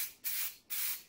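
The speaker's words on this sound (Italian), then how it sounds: "possiamo procedere con l'ultimo strato di trasparente spray." Two short hissing bursts from an aerosol spray can applying clear coat to car parts, each a sharp onset followed by a fading spray, close and alone.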